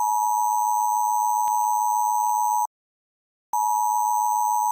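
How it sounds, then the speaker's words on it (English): Loud piercing emergency alert tone, steady shrill beeping that cuts out for about a second, then resumes. "the noise of an Amber Alert gets blasted"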